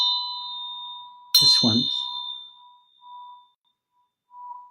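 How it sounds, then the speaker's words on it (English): A gentle bell is struck once in a quiet meditation setting, its clear ringing tone sustaining and slowly fading while a soft voice speaks briefly over it. "you're going to hear the sound of a bell."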